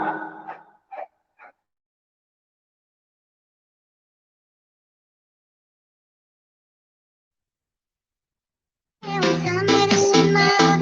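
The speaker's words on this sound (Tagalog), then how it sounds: "ang ingay ng aso dito." A few short dog barks or yips up front, then a long silence before a burst of dense, loud tonal sound fills the end.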